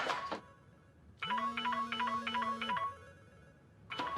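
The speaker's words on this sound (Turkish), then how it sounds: "telefon çalıyor." A phone ringtone plays a repeating electronic melody for about a second and a half, clear and close, with short bursts of other sound before and after.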